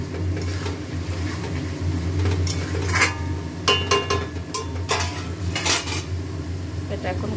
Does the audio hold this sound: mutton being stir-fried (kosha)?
yes